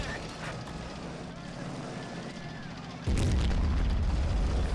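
Artillery fires in the Men of War battle game: distant booming rumble under game ambience, then a sudden loud, sustained low blast that holds to the end.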